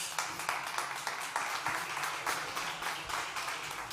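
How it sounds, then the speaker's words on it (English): An audience at a startup summit conference stage applauds for a speaker being introduced, a steady wash of many hands clapping at moderate distance for the whole stretch, with no voice over it. "Big applause for Luis."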